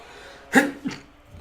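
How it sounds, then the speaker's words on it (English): Two quick sneezes from a person, one sharp burst followed shortly by a softer second one, close and isolated with no talking. "Oh, excuse me, sneezing away."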